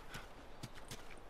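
Horse hooves clip-clop in The Last Of Us, a few distinct, evenly spaced strikes over a steady low background, moderately close and fairly quiet.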